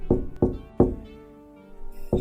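Four heavy wooden knocks from a chair being shaken in a dark room, a horror story sound effect: three close, evenly spaced thumps, a pause, then one more, loud and near with no talk.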